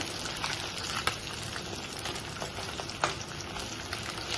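Pieces of fish deep-frying in hot oil in a restaurant-style fish fry, giving a steady crackling sizzle with a couple of sharper pops as the pieces are turned over in the pan.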